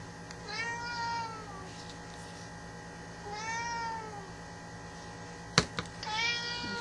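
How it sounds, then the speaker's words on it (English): A house cat meows twice indoors, each call a clear rising-falling cry spaced a few seconds apart, followed by a sharp knock and a third shorter meow near the end. "that's my cat"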